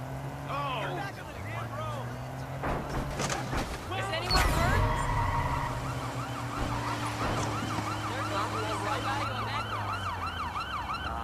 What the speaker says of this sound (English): We need an ambulance here, right now!